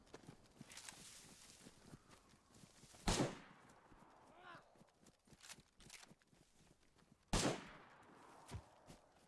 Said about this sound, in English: They're shooting. They're shooting.